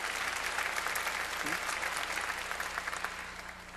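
Congregation in a church breaks into brisk applause during a sermon, a dense burst of clapping filling the room and tapering off over a few seconds.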